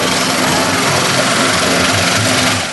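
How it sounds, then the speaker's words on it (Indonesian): A rice transplanting machine's engine runs in a waterlogged paddy field in Tanjung village, Pringsewu, Lampung, and it stalls often in the too-wet soil. It gives a steady, loud, close mechanical roar throughout. "mesin padi ngadat saat beroperasi di persawahan Desa Tanjung"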